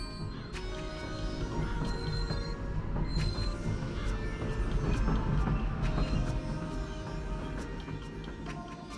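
A train ride in the video game Paper Mario: The Thousand-Year Door plays alone: a continuous low rumble of rolling rail cars with repeated high squeals and clacks from the wheels, steady and fairly loud throughout.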